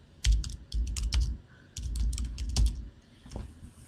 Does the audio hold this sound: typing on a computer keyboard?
yes